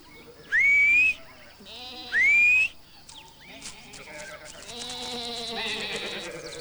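Sheep bleat in a field, several wavering calls rising into a blended flock chorus, preceded by two loud shepherd's whistles to a sheepdog.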